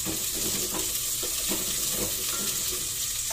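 Garlic and onion fry in a little oil for a Bisaya tinola, a steady close hiss of sizzling with faint scraping and stirring sounds underneath, and no voices.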